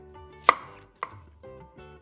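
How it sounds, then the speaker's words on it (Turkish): Knife chopping an onion into small pieces on a cutting board, a few distinct sharp thuds spaced about half a second apart, close and clear, with no talking. "Onun için ben hemen şöyle bir ufak ufak doğrayacağım."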